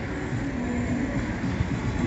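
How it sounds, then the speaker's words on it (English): A Blackpool tram runs along the seafront near North Pier, giving a steady, fairly loud rolling rumble of wheels on rails that continues without a break throughout. "I was just on my way on the tram"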